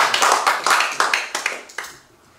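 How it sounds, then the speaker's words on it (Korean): Meeting attendees at a New York church council session clap together briefly, a short burst of hand claps fading out within a couple of seconds, fairly close and unaccompanied by talk. "박수 한번 해주시기 바랍니다"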